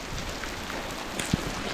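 Rain patters steadily on a desert trail between Fruita, Colorado and Moab during a multi-day footrace, an even hiss with one brief thump near the end and no talking.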